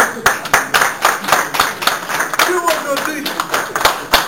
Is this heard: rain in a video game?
no